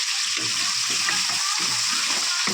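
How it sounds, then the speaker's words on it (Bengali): Vegetables lightly frying in oil for a hilsa fish head chorchori, a steady close hiss with soft stirring and scraping underneath, no voices. "এগুলো হালকা করে ভেজে নেবো।"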